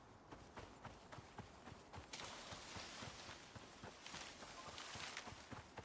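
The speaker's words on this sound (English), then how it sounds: "I hear footsteps of some creature." Footsteps of an unseen creature in the survival game Icarus, a quick run of soft, evenly paced thuds resembling hoof clip-clops, faint and distant over a low ambient wash, with no voices.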